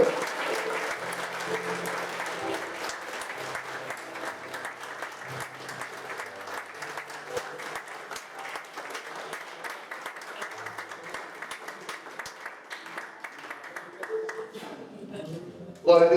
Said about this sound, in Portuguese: Vamos aplaudir e glória ao Senhor, irmãos.